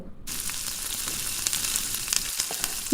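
Cabbage fritters (bora) deep-fry in a wok of hot oil over a low-to-medium gas flame, giving a steady, close, bubbling hiss with small crackles and no talk.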